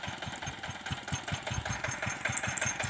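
A tractor engine idles in a rice field during harrow fitting, a steady low chugging pulse with regular beats, close and moderately loud, alone without talk.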